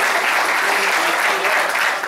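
Church congregation at a thanksgiving service claps together, a loud, dense, steady burst of applause filling the whole short moment without pause.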